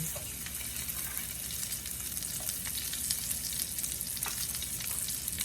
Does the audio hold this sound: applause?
no